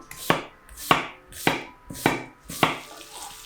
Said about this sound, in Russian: Тем временем нарежем одну репчатую луковицу.